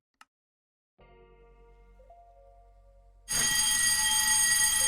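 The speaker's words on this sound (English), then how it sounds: "A standard fire alarm test." After a brief click and a soft electronic tone, a standard fire alarm test starts ringing: a loud, continuous bell that holds steady to the end.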